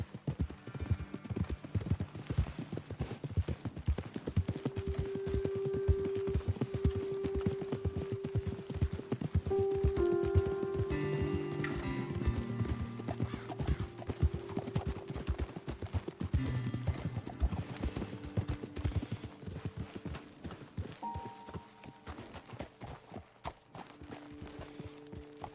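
Horse hooves clip-clopping as riders move along a trail in the video game Red Dead Redemption, a steady close rhythmic clatter with other hooves overlapping and brief musical tones above.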